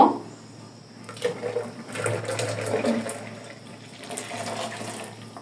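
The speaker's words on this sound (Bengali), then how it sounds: "এখন আমি লাচ্ছিটা ঢেলে নিব।" Lassi being poured into a glass in a home kitchen, a soft liquid splash and trickle running for a few seconds at moderate level with no talking.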